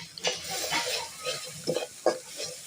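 Eggs with turmeric are stir-fried in a pan for noodles, giving soft sizzling with scattered scraping and clinking of a spatula against the pan, close and moderately quiet, with no talk.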